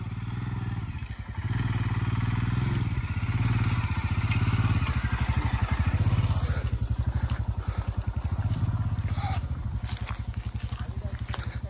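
A motorcycle rides along a village path, its engine a steady close throbbing drone with slight surges, carrying on for several seconds.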